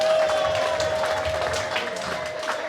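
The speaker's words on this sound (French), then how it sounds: "Est-ce qu'on peut applaudir?" Clapping from guests at a 65th birthday celebration, applauding an 11-year-old girl, steady and moderately loud over a continuous tonal hum, with faint crowd murmur beneath.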